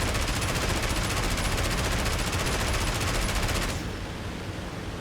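The MG131 dorsal machine gun on an He111 H-16 in the IL-2 Battle of Stalingrad flight game fires one loud, dense, continuous burst that cuts off abruptly near the end, leaving a fading rush of noise.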